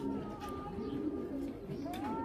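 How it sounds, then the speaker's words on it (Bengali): A grizzle racing pigeon coos softly at close range, low throaty murmurs rolling on over a quiet background. "এই যে দেখেন একটা গ্রিজাল কবুতর"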